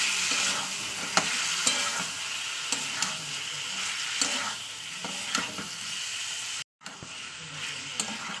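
Meat being stir-fried in oil after a half spoon of garam masala powder goes in, a steady close sizzle punctuated by scraping spatula strokes, with a brief cut to silence near the end.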